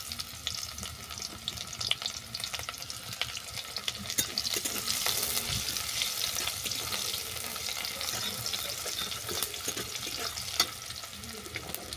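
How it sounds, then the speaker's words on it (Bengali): Chopped onion frying in mustard oil in a karahi: a steady, close hiss of sizzling that runs throughout, broken by occasional scrapes and clicks of a spatula stirring the pan. "এরপর দেবো কুচানো পেঁয়াজ।"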